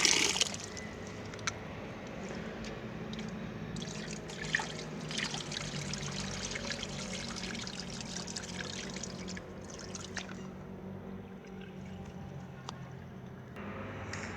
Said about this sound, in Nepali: यो पानी एकचोटि सट्टै फ्याल्ने।